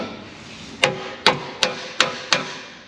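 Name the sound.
hammering out a weld with dolly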